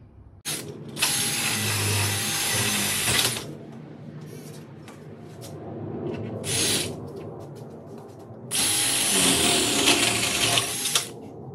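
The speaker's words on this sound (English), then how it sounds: "we've drilled the biggest hole, the bore hole through the center of the door" A power drill on high speed runs in two long loud bursts with a short burst between, whining and grinding as it bores a large hole through a door, no talking.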